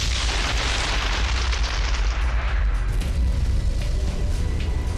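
A massive asteroid impact explosion rendered as a sound effect: a loud, sustained roaring blast with dense rumbling low end and crackling debris that holds at full strength for several seconds.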